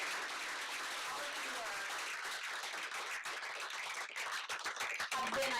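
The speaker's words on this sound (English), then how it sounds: "let's just have a round of applause here" Steady applause from a panel-discussion audience for three panelists at a talk on media and the Iraq war, a dense, even wash of many hands that thins into scattered claps near the end.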